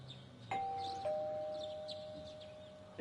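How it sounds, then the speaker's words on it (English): A doorbell in the Persona 4 Golden video game gives a clear two-tone ding-dong whose second tone rings out and slowly fades, over faint chirping birds and a quiet background. "You hear the doorbell ringing."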